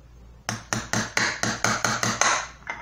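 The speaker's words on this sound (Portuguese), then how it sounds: "eu vou bater com o martelo aqui, ó" Small hammer tapping lightly on metal in a home kitchen workshop, about ten evenly spaced sharp metallic knocks, close and clear, with no talking.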